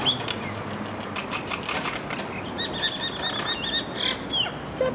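Birds scuffle and fight, their wings flapping in rapid repeated bursts with sharp squawks and chirps, close and fairly loud, no voices.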